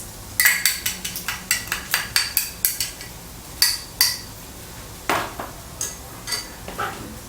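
Fried rice with two beaten egg yolks tossed quickly in a wok, a rapid series of loud metallic clanks and scrapes from a spatula striking the pan, close, brisk rhythm with brief pauses, no voices.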